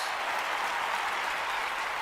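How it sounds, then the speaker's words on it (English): Video game crowd applause at a London 2012 Olympic skeet shooting event, a dense, steady wash of clapping heard alone for about two seconds. "That pleases the crowd."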